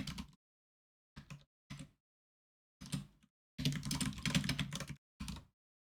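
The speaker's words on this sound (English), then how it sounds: "The typing, I'm so sorry." Bursts of computer keyboard typing come in several separate clusters, close and fairly loud, with one longer run of rapid keystrokes in the middle and short silent gaps between.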